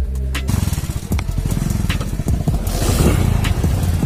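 A motorcycle engine runs loud and close, a dense rumbling idle with rapid pulsing that rises slightly in intensity toward the end, continuous throughout with no voices.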